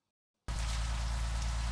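Steady rain in the Bus Simulator Indonesia driving game hisses in abruptly after a brief silence, then continues as an even, close downpour with a low rumble underneath, with no talk over it.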